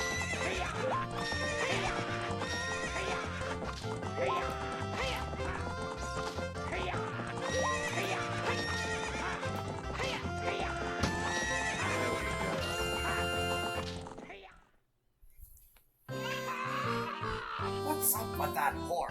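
A horse whinnies over quick, rhythmic hoofbeats against a busy musical background in the video game The Legend of Zelda: Ocarina of Time. The sound drops out briefly, then resumes.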